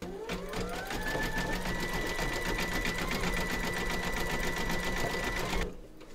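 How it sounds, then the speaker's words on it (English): An embroidery machine zigzag-stitches a round joining segments of a large surfing Santa design, a steady, loud, rapid needle chatter with a rising whine at the start that runs evenly for several seconds before cutting off. "Pop your hoop into your machine and stitch round number 12, and that's going to zigzag along here and join the segments together."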